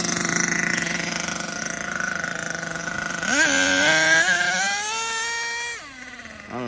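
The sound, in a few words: HPI Savage 25 nitro RC monster truck with slipping slipper clutch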